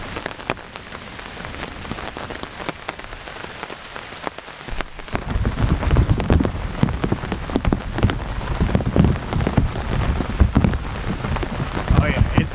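Heavy rain pours down nearby during a thunderstorm, a dense patter drumming on surfaces that grows louder and more intense partway through.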